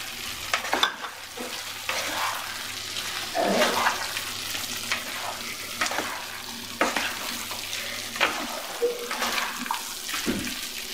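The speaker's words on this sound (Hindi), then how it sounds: "अब हम इसमें ये आलू मिक्स कर देंगे।" Potatoes being stirred into a simmering peas curry, a steady oily sizzle broken by repeated scraping spoon strokes against the pan, close and fairly loud, with no talking.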